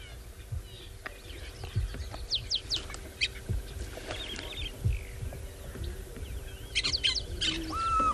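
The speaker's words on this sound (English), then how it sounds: "African fish eagle. So we know what all of these calls about." An African fish eagle calls outdoors on a South African safari morning, sharp yelping notes in short bursts amid other chirping birds and low wind rumble, moderately distant.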